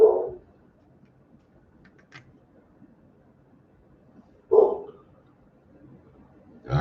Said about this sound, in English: I heard that damn dog.